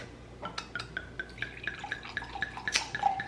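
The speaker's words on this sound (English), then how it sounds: "So we're gonna pour ourselves a glass." A drink pours into a glass, starting with scattered drips and building into a run of bright, bubbly glugs and splashes close by, without any voices.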